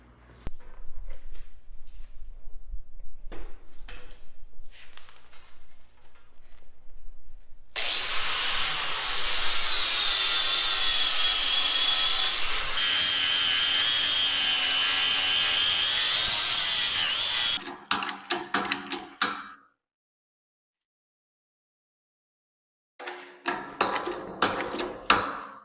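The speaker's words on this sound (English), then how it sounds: "let's do some grinding." An angle grinder works a costly aluminum part for a snowcat build, with a steady loud whine holding for about ten seconds, then short bursts, a pause and more brief grinding, close up.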